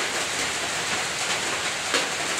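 Steady heavy rain pouring down in a continuous broadband hiss, with a brief louder splash or knock near the end.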